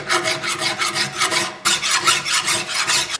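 A metal file rasping across the mushroomed steel head of an old axe: rapid, steady back-and-forth strokes, loud and close, with a brief break midway and no speech.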